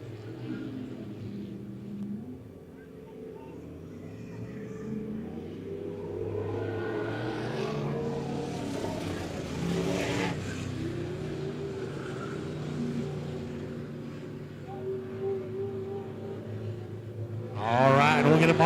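USRA stock cars racing at Monett Motor Speedway during a heat race, several engines droning and revving at a distance, swelling as the pack goes by and rising to a loud close pass at the end.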